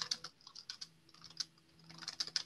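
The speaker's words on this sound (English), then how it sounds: "Someone who's typing is loud." Fast, loud typing on a computer keyboard picked up by a call microphone, a dense irregular patter of sharp key clicks in quick bursts, close and alone without talk.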